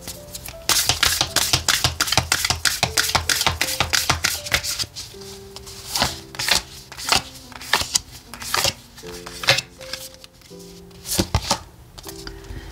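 Oracle cards for a tarot reading are shuffled by hand in quick, crisp riffling bursts, then slower individual flicks and slaps, close and clear over soft background music.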